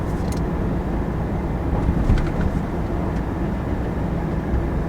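A 2024 Chevy Silverado 3500 on 37-inch tires cruising at low RPM in high gear, a steady loud low drone of engine and road rumble inside the cab, no talk.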